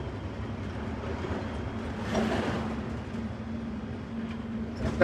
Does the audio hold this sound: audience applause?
no